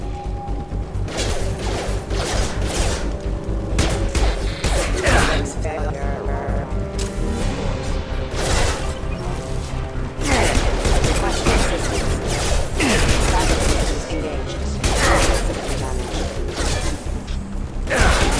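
Gunfire and mechanical combat noise from the Mass Effect 2 video game on PC, fighting mechs: dense, loud bursts of shots and clanks run continuously through the whole stretch, with voices calling out amid the battle.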